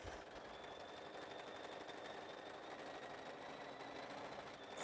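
A sewing machine stitches binding onto a quilt, producing a faint, steady, even whir that runs without a break throughout, with no voices.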